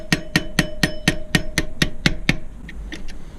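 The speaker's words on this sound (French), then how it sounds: "on vient chasser l'axe avec le marteau" A small hammer strikes repeatedly to drive out the brake pad axle pin on a Husqvarna WRE motorcycle, with about ten quick, regular metallic taps close up, followed by a few fainter, lighter knocks.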